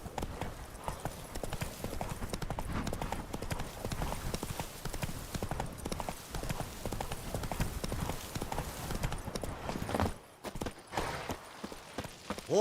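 Roach, a horse in a video game, trots steadily with a close, rhythmic clip-clop of hooves over a busy ambient backdrop. The hoofbeats continue for most of the stretch, then briefly drop away before resuming near the end.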